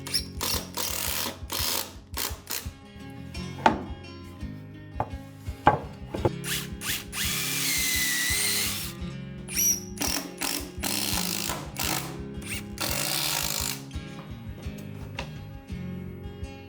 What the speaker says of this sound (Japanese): 今は横からでも上からでもこういう風にビスで留めれますから楽です